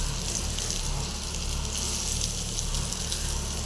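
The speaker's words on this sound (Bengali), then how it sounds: "আর এখানে আলুগুলো আবার তেলের মধ্যে দিয়ে দিয়েছি" Potatoes fry in hot oil with a dense, continuous sizzle, steady and fairly loud, and no voices over it.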